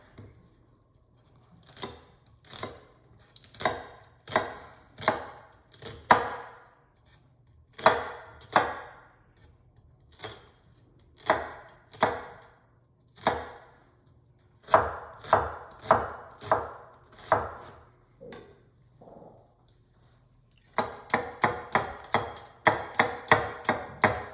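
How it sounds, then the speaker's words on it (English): A knife chops an onion on a cutting board in a kitchen, for a chickpea soup: bursts of quick, crisp close-up cuts in short rhythmic runs with brief pauses, ending in a rapid steady series of chops. "and chop it"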